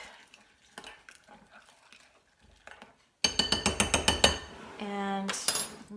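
A spoon clinks and scrapes around a dish as ingredients are stirred with a cup of water, a quick run of rhythmic metallic taps followed by a brief sustained scrape, close and alone after some quieter handling.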